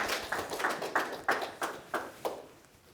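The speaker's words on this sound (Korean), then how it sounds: "나오실 때 할렐루야로 환영해 주시고 박수로 맞아주시면 감사하겠습니다." A church congregation claps to welcome the pastor to the pulpit at a Sunday service, with about seven spaced, fairly soft hand-claps in an even rhythm that fade out toward the end.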